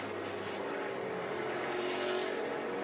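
A NASCAR Cup Series race car engine held on throttle at Atlanta as the car wiggles and starts to slide, a steady, loud, dense roar that holds unbroken for the full stretch, with no voices.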